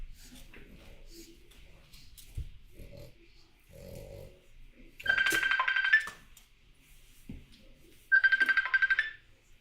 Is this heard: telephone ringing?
yes